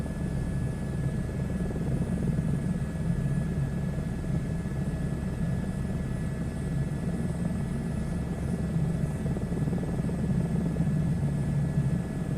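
Helicopter in a VR flight simulator game cruising at around 120 to 140 knots, a steady, continuous rotor and engine drone with a low rumble that holds evenly throughout, no talking.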